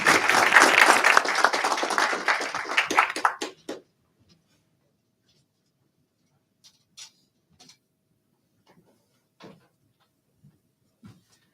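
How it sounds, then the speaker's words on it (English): A city council meeting audience applauds after a special presentation: dense clapping for about three and a half seconds that cuts off abruptly, leaving a quiet room with a few faint scattered knocks and shuffles. "And if we could give her one more round of applause,"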